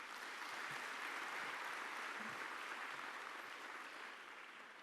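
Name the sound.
audience clapping hands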